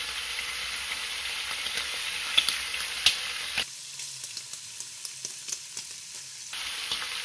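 Prawn rolls frying in coconut oil give a steady, close sizzle with a few sharp pops and stirring clicks. The frying noise dips midway, then returns at full strength.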